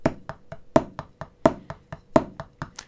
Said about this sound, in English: in the first bar, we're gonna play the left, left, nice and ghosted like this